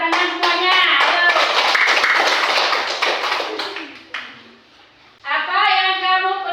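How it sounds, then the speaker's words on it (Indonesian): Children in a classroom clap their hands together in a dense, loud burst for about four seconds. The clapping fades out and then a voice speaks near the end. "Tepuk tangan semuanya"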